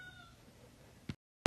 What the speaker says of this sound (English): I'm sure you can hear my cat in the background.